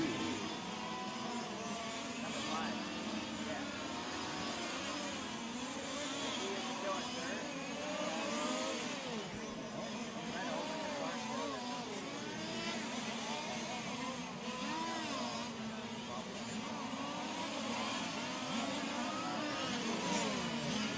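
Fifth-scale RC race cars buzz and whine continuously around the Steel City RC Speedway track during a world championship main final, several small engines overlapping and rising and falling as they lap, at a steady moderate level.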